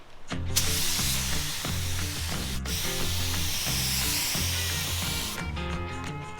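Continuous close hiss of spray primer going onto a car body, one long burst with a brief break partway through, then the nozzle cutting off near the end.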